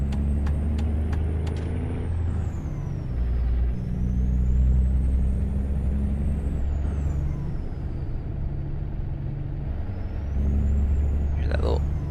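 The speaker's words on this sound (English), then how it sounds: "Hear that little choo sound. That's the turbos. Oh, the wastegate." A modded 800-horsepower twin-turbo truck in a driving game rumbles low and steady while a turbo whistle rises and falls over it, with a brief hissing release; someone talks over the engine.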